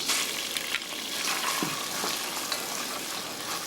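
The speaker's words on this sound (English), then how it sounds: "You stir and fry the onions." Finely chopped onions fry and sizzle in a pan, with a steady dense hiss and a few soft scrapes as they are stirred, close and continuous without talk.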